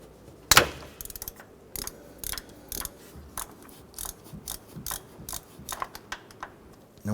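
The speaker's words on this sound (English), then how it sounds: "I'm going to go ahead and use our 10mm socket and ratchet, and we're going to remove this bolt just to the right." A 10mm socket and ratchet clicks steadily while loosening a bolt on a 2008-2012 Honda Accord 2.4L engine, a close, rhythmic run of sharp ratcheting pawl ticks in short bursts, with one louder clank near the start.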